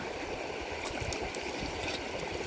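A river stream flows with a steady, broad rushing and gurgling wash of water, constant in level from start to finish, with no voices.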